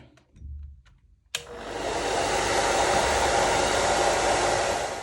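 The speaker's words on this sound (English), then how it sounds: "immediately run them through a hair dryer" A hair dryer switches on with a click and blows steadily, a loud, close whooshing hum that continues without pause.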